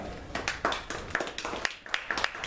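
A few people clap in a sparse, uneven rhythm, close by, with some faint voices mixed in.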